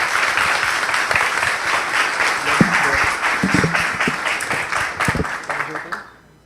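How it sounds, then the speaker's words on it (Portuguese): An audience at a Laravel tech talk claps steadily, a dense, even wash of applause that fades out near the end, with a few voices murmuring underneath. "Uma salva de palmas para o Eric"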